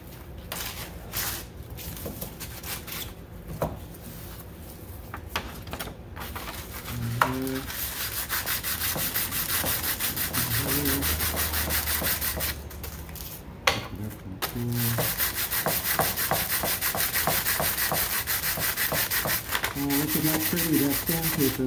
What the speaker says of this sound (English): looks how nice it's sanding